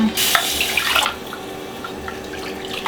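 A ladle is rinsed with liquid while cooking lamb shanks: a brief loud splash and pour of water for about a second, then quieter dripping and faint kitchen rustle, no talking.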